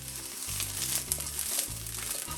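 Broccoli and vegan meat pieces fry together in a hot pan, a close, steady crackling sizzle with soft shifting rustles from stirring, no voices over it.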